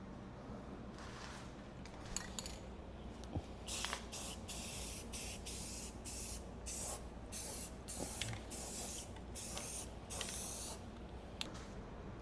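Aerosol spray paint hisses in a run of short and longer bursts as parts of a Chevy C10 pickup truck are coated, close and fairly quiet, with no talking.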